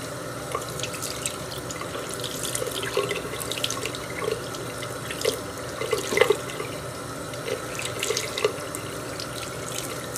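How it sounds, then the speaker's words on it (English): Water is squeezed out of washed wool in a sink, giving a continuous running, trickling sound close by, with soft splashes and drips recurring throughout. "I'm just going to squeeze down from the top again to try and get as much water out as I can"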